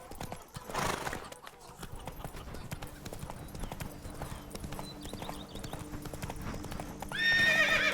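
Roach the horse gallops in The Witcher 3: Blood and Wine with steady rhythmic hoofbeats and a whinny near the start, under game music and voices.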